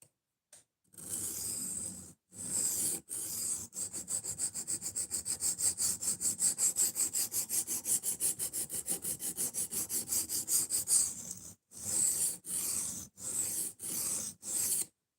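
Knife blade being sharpened to raise a burr, heard as a long run of quick rhythmic rasping strokes, then a few slower separate strokes with short pauses, close and fairly quiet.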